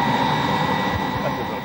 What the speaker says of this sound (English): risk taxiing with one wheel on the grass, a dangerous maneuver when the ground is soft